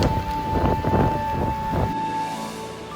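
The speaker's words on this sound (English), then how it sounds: "The rain suddenly has become so strong" Heavy rain pours down in a dense, constant wash of noise, steady and close, with no voices.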